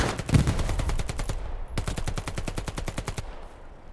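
Loud, close automatic gunfire in the video game Hell Let Loose, in two long rapid bursts separated by a brief pause, trailing off at the end.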